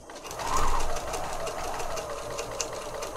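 A sewing machine stitches a spring-themed journal with a little reversing along the bottom, giving a steady close mechanical whir with a fast rhythmic chatter throughout and a slightly louder burst early on.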